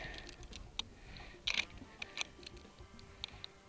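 Cartridges are loaded into an 1873/1892 lever-action rifle, giving a quiet series of sharp metallic clicks and ticks, some doubled, spaced irregularly against a faint background.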